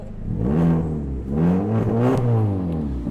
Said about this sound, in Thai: ที่สำคัญจะบอกว่าคันนี้มีท่อซิ่งนะ ระบบไฟฟ้าหมดเลยนะ ท่อซิ่งนะท่อซิ่ง